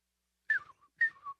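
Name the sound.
bird whistle being blown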